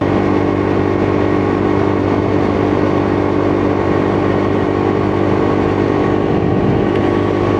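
A Lexmoto LXR SE motorcycle being ridden on the road, its engine droning loudly and continuously with steady wind-buffeted rumble throughout, no talking.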